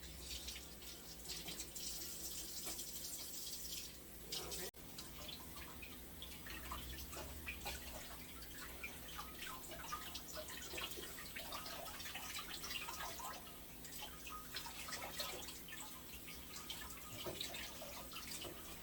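Red snapper fish rinsed under a running kitchen tap, a steady, fairly faint rush of water with splashing and dripping as the fish is turned under the stream, lasting throughout with no talking.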